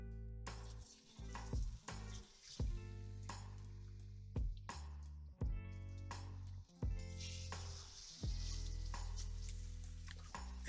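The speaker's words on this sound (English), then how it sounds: "And we're going to let this sear for about 3 minutes on each side." A chuck roast sears in a hot pan, giving a steady close sizzle and crackle that runs throughout, broken by a few sharp clinks and scrapes of utensils against the pan.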